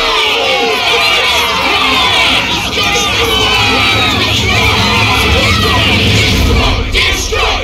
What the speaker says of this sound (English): Listen outside. The screams of the adults,